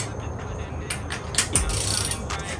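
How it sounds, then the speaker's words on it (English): Torque wrench tightening ARP head studs to 60 foot-pounds on a B18 LS/VTEC engine build, with rapid ratcheting clicks and metallic creaks, close and continuous. "torquing the ARP head studs to 30 foot-pounds. We're gonna go ahead and do 60 foot-pounds"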